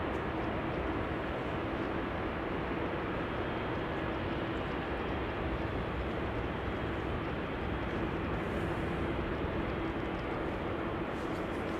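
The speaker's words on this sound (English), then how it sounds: "That's a 737-800 arriving from Paris-Charles de Gaulle" A KLM Boeing 737-800 arrives from Paris at Amsterdam Schiphol, heard as a distant, even jet rumble and hiss that barely changes in level, alone with no talking.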